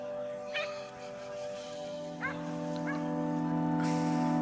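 A dog barks and yips at night at a mountain campsite on the GR20 trail in Corsica, with a few sharp, fairly distant barks spaced apart over a steady background.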